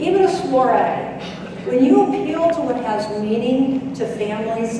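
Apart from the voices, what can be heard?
No everyday noise stands out behind the speech.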